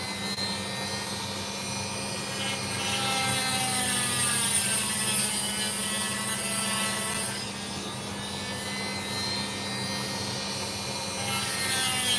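A saw slicing through an opal stone runs as a steady, loud mechanical whine with a high grinding hiss that swells in the middle and eases, continuous and alone without talk.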